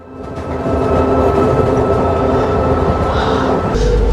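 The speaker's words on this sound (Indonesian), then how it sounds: "John bertemu Akira dalam sebuah kereta" A train rolls through a scene in the film John Wick 4, its loud, steady rumble and rail hum filling the entire stretch without pause after a brief swell at the start.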